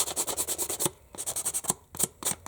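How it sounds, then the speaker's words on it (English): Light sanding across a printed acetate journaling card, a quick series of rhythmic close rubbing strokes with a brief pause partway through, no talking. "I'm just going to give it a light sand."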